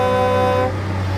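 A dump truck horn honks once as a steady, loud blast of just over half a second, then cuts off into a brief fading tail.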